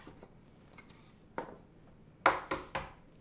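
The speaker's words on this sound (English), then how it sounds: "And then we're just going to crack an egg" An egg cracked against the rim of a mixing bowl while making skillet butterscotch banana bread: a faint tap, then two or three sharp close clicks and cracks in quick succession, with no talking.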